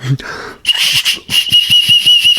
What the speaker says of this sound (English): Whistle's not working too well.